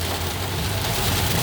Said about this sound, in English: It's just rain right now.